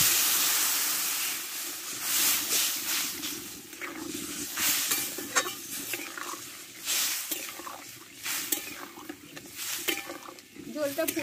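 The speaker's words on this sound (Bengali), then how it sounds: "এবার জলটা দিয়ে দেবো।" Water goes into a hot pan of potato curry masala for a fish roe dish. A burst of sizzling and hissing starts loud, then bubbles and sputters unevenly while a person talks over it.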